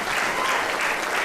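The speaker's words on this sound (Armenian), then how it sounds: "Իսկ իրականում բարձր ծափեր հղենք բոլոր մայրերին" Audience applause for mothers during the semifinal round of an Armenian televised talent show. Brief, full, even clapping fills the hall at steady volume.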